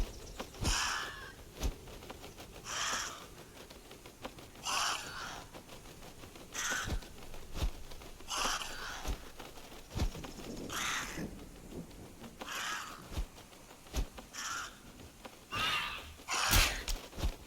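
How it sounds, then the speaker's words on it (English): Crows caw repeatedly in the video game Atomfall, regular harsh calls spaced about every two seconds at moderate distance, set against faint ambient background and sharp clicking sounds. "Birds."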